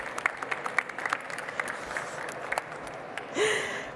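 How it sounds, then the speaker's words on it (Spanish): Brief scattered applause from a crowd at an industry event on robotics and automation, modest claps over a room hum, swelling slightly near the end. "Un aplauso."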